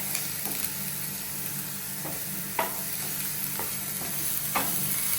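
Onions sauté in a pan with a steady, continuous sizzle, while a ladle scrapes and taps against the pan in several distinct strokes spread through the mix.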